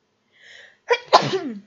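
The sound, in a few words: sneeze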